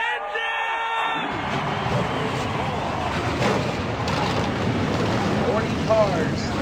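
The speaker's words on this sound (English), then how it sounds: "40 cars thundering on pit road here at the Rock" Stock car engines fire up together on pit road at the Rock in a NASCAR racing video game, a dense, steady roar of about forty cars that fills the scene after a brief tonal opening, loud and sustained throughout.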